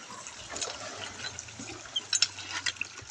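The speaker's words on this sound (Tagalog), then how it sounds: "Poso ang aming kinukuha ng tubig." Water drawn from a hand pump well at a construction workers' site, a soft continuous gushing splash with a few brief louder bursts toward the end, fairly quiet and without talk.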